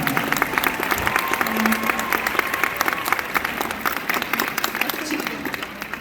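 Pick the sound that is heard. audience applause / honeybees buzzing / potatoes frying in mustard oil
audience applause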